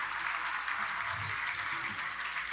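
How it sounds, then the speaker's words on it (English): Applause from an audience at a siyum celebration marking completion of half of Shas, a steady wash of clapping filling the room throughout, moderately loud with a faint murmur of voices underneath. "So a huge round of applause to all of them"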